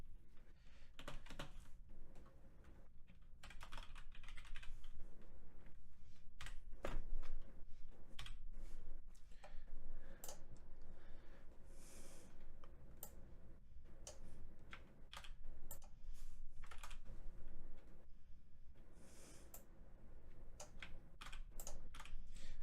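Keys on a computer keyboard clatter in quick irregular bursts with short pauses, close and fairly quiet over a low steady hum.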